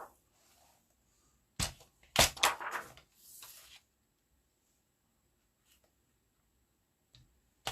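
An acetate sheet is cut to a 5.5-inch square, giving a few sharp, crisp slicing and snipping sounds close by in a brief cluster, then near silence with faint ticks.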